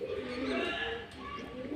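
Loft pigeons of the Phulshira line coo in low, throaty rolling calls, close by and continuous, swelling and fading in soft repeated waves.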